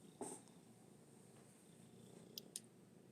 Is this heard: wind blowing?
no